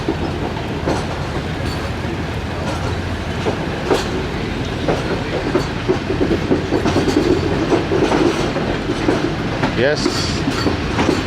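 The 101 Up passenger train from Lahore to Rawalpindi rumbles loudly and steadily from inside a carriage, with rhythmic clickety-clack of wheels over rail joints, a brief squeal of wheels, and some voices talking beneath the noise.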